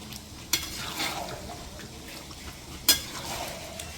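Biryani stirred in a pot over a clay stove: two crisp clinks of a spoon striking the pot between soft scraping and a low bubbling simmer, close and quiet, with no talk.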